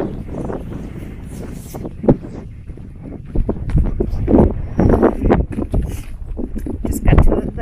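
Gusty wind buffets the microphone on an exposed mountain trail in the Presidential Range of the White Mountains, a steady rumbling roar that swells into louder bursts toward the end, with no talking.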